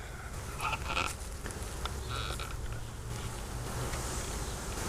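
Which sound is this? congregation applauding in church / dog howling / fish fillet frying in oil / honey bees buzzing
honey bees buzzing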